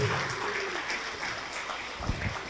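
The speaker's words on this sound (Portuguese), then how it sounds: "Vamos aplaudir mais." A church congregation applauds steadily in a reverberant hall, with a dense wash of clapping at moderate volume. Some low thumps come near the end.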